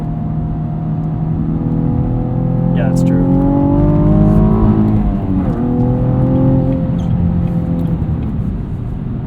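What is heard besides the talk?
2016 Cadillac ATS-V Coupe engine accelerating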